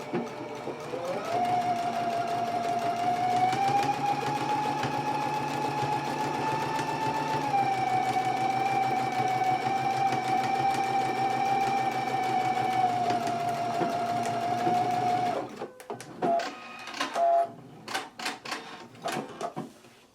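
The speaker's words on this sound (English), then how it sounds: "let's go ahead and do that stitching now." Sewing machine stitching a skirt seam at close range, a steady high whirring hum running for about fifteen seconds, then stopping and giving way to scattered handling clicks and rustles.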